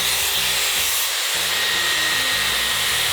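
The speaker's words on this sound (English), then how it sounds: "I slowly run it through my hair, giving my hair time to also dry." A Dyson Airwrap hair styler blows a steady, loud rush of air while being run slowly through hair, with a low uneven motor drone underneath throughout.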